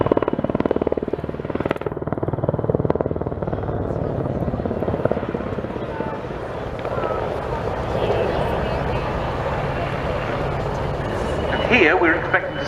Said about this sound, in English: a variety of different helicopter manoeuvres